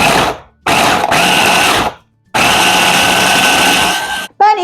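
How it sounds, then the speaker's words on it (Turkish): An electric food chopper whirs loudly through peppers, tomatoes and parsley in three close bursts separated by short pauses, ending with a brief high-pitched squeal. "Şimdi hepsini bir güzel doğrayıcıdan geçiriyorum."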